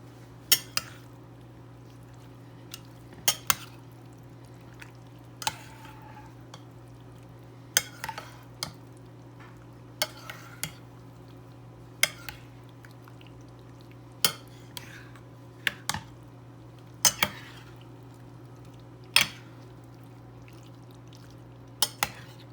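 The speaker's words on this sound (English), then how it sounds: "I pulled the casserole from the oven, and there you go. We're just going to stir it." A spoon stirs a baked green bean casserole in its dish, giving scattered sharp scrapes and clinks against the dish at irregular intervals over a steady low hum.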